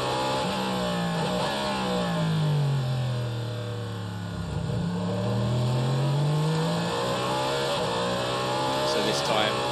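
Onboard Le Mans race car engine with Earl Bamber driving, a loud continuous roar whose pitch sweeps down under braking then climbs again through acceleration, close and dominant throughout with no voices over it.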